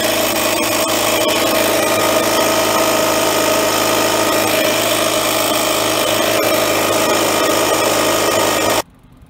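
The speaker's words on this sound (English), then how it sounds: "now I hook this thing up and now we're gonna turn on the air pump" Electric air pump running steadily to inflate a flat bicycle tire, a loud continuous motorized drone with a buzzing hum that holds evenly for about nine seconds and then cuts off abruptly.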